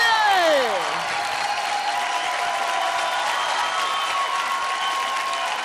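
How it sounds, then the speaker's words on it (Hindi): Studio audience applause for a child dancer on a televised dance competition fills the room as a broad, sustained wash of clapping, following a falling electronic sweep at the start. "जोरदार तालियां हो जाए अद्विका के लिए"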